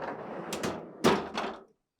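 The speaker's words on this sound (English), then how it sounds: "Start by opening the freezer door" A GE refrigerator's freezer door is pulled open, giving a close, rustling rush of handling noise and a sharper thunk near the middle, with no talking.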